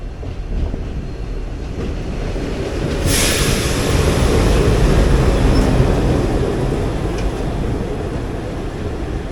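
The Madurai–Guruvayur Express passes, hauled by a WDG3 diesel locomotive, a loud continuous rumble of wheels and engine that swells in the middle with a brief hiss and then rolls on steadily.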